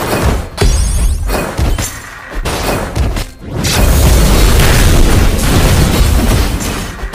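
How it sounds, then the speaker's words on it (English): A turret destroyed in the game Legend of Ace: crashing, shattering booms and bursts, several heavy impacts followed by a sustained loud rumble of breaking debris. "Your team has destroyed a turret."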